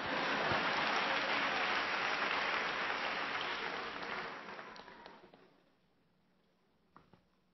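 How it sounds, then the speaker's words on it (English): A church congregation applauds in a dense, steady wash of clapping that holds for several seconds, then thins out and fades to a few scattered claps near the end. "You can clap, that's all right."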